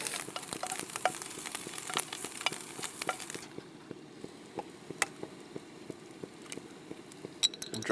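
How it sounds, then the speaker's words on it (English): Bacon fries crisply in a pan at a campsite breakfast, a close, continuous sizzle broken by sharp clinks and scrapes of stirring, with no voices. "I'm giving the bacon a good old cook here, so it goes a bit crispy on me"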